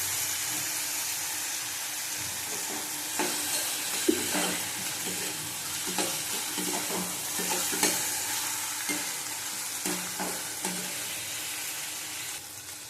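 Pointed gourd sautéed with Kashmiri chilli powder sizzles steadily over low heat as a spatula scrapes the pan in a regular rhythm of repeated strokes, close and without talk.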